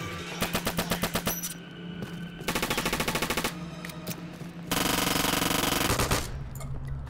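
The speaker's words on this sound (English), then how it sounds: "I can see the bullets whizzing past" Automatic weapon fire in the shooter game Return to Castle Wolfenstein, loud rapid bursts of gunshots in several long strings with short gaps between, no voices.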